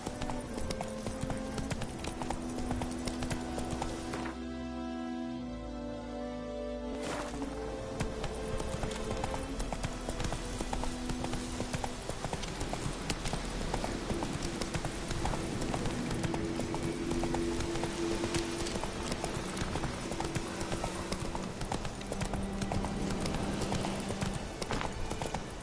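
Roach the horse's hooves clip-clop in a steady, even walking rhythm in The Witcher 3, close and clear over soft ambient game music, with a short quieter lull partway through.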